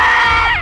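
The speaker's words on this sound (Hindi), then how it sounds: "पर ये जब चीखती है ना" A woman screams loudly, a single high, sustained cry lasting under a second that falls in pitch toward the end.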